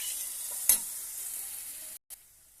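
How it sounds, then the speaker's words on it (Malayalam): Chili, coriander and turmeric powders sautéing in a pan for a sardine curry give a steady close sizzle with a scrape of stirring, cut off briefly near the end. "അത് ഒഴിച്ചിട്ടൊന്ന് വഴറ്റാം."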